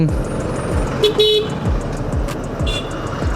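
Jammed traffic at Narayanpur bus stand, a dense roar of idling and passing vehicles with several sharp horn toots and a longer honk near the middle, heard up close amid the congestion.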